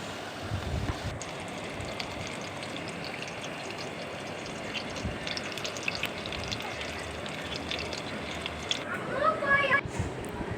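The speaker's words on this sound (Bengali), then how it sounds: "এভাবে আমি বাকিগুলো ভেজে নেব।" Crispy vegetable rolls deep-frying in oil, giving a steady close crackle and sizzle that runs through the whole stretch and swells slightly near the end.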